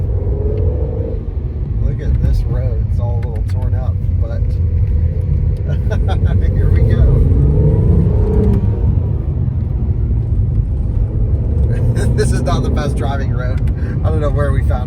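An Acura NSX pulls hard with the pedal floored on a rough, torn-up road, its engine a deep continuous rumble running beneath people talking inside the car.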